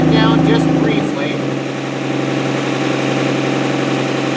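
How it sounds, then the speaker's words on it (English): A 1967 Slant Six engine on manual choke runs at a fast idle, a steady mid-low drone that is loudest in the first second and then settles into an even, continuous hum. "we want to leave it on this fast idle for roughly a minute or two"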